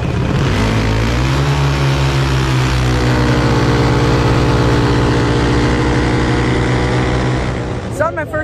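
A drag-racing car's carbureted engine revs loudly and steadily at close range, a sustained droning roar that holds for several seconds before dropping off with a brief rattle at the end.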